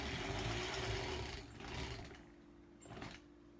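A sewing machine hums and stitches while quilting granny square blocks, running steadily, then easing off with short bursts and pauses in a quiet room.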